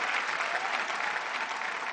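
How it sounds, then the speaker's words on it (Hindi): A comedy show audience claps continuously in a dense, even wash of applause, moderately distant and steady for the whole moment. "लोग अभी भी ताली बजा रहे हैं।"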